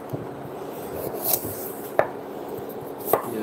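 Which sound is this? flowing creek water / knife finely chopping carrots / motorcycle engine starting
knife finely chopping carrots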